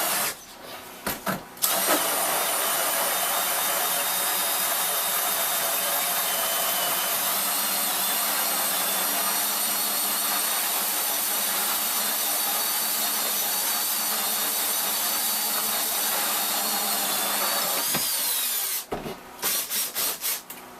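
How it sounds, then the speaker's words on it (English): A drill with a larger bit boring a hole through a house wall for a pipe fitting, a loud, close, steady whine that runs nearly twenty seconds, with short bursts of starting and stopping at the beginning and end. "I'm going to put a slightly larger bit in here to make the hole so that it will pass this fitting"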